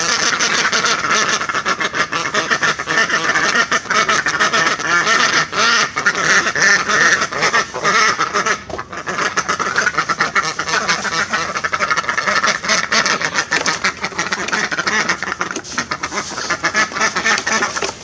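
Ducks quack loudly and continuously in a barn at feeding time, a dense overlapping chorus of calls close by with no gaps throughout.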